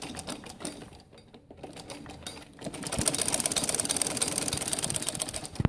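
A sewing machine stitches a samosa salwar seam, starting with quieter handling and light mechanical ticks, then running into a loud, steady, rapid whir that continues to the end.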